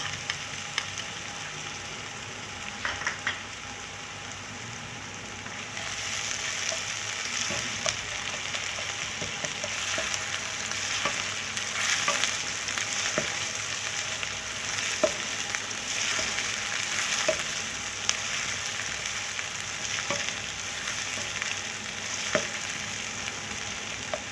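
Onion and ginger-garlic paste fry steadily in a pan for chicken vegetable macaroni, a dense continuous sizzle with scattered crackles and pops, growing louder after the first few seconds, with no talking.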